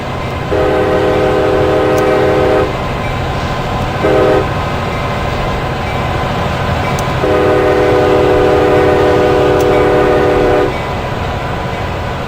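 A Pacific Surfliner passenger train in the Open Rails train simulator pulls away from San Clemente Beach, its horn sounding in two long blasts and one short one over a steady engine rumble.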